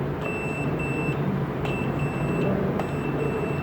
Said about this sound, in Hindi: अगर मैं अर्थिंग की वायर लेके बॉडी पे कहीं भी लगाऊंगा ना, मुझे बीप मिलेगी